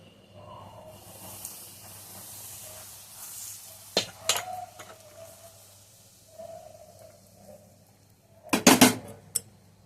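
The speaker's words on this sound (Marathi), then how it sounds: "आता कडकडीत तेलाचं मोहन टाकूया" Very hot oil poured into a flour mixture for sambar vadi dough, a sudden loud crackling sizzle bursting out near the end after quieter kitchen handling sounds and soft clinks.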